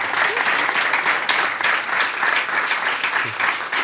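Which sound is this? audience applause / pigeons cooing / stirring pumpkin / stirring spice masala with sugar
audience applause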